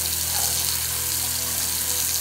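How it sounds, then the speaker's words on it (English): Water pours steadily from a tap into a reptile's water dish, a loud, continuous rushing flow close by with no voices. "And I'm filling her water."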